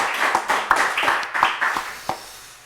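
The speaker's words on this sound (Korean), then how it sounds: "우리 하나님께 영광의 박수 한번 올려드리겠습니다." A church congregation claps together in a rough rhythm during a Sunday service, about a dozen fairly close, distinct claps that thin out toward the end.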